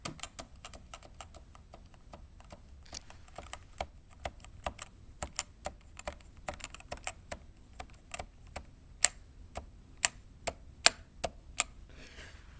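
Keys on a Topre Type Heaven keyboard are pressed in a quiet, irregular run of soft, dampened thocks, typed close up, with clicks growing slightly sharper and denser toward the end.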